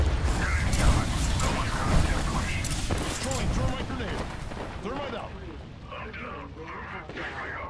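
Heavy booming blasts and gunfire crash together in an Apex Legends firefight, with a grenade detonating among loud bursts early on, then quieter clatter while players talk over the action.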